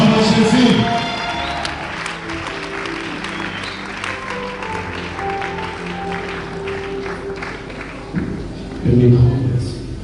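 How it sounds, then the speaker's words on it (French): Congregation applauding during a church wedding blessing, clapping loudest at the start and swelling again near the end, with a voice and some musical tones beneath the dense clapping. "nous appelons le révérend docteur Charles Zegabani sous nos applaudissements pour son équipe de chants pour Jésus"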